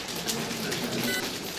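A French motivational-event audience taps fingers on their palms to imitate rain on a tent, making a dense, even patter that holds steady for the whole stretch with no voices.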